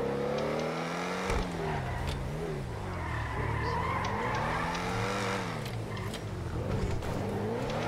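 A stolen luxury supercar from the GTA 5 video game drives fast and close, its engine revving and shifting steadily while tires squeal and skid throughout.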